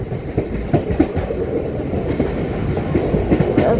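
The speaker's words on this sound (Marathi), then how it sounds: "हे बघा, सगळ्या घरांच्या वरून आपली लोकल ट्रेन जाते." A Goregaon–Panvel harbour line local train rumbles past steadily over a bridge above houses, with rhythmic clickety-clack of wheels over rail joints, loud and close for the whole stretch, no voices.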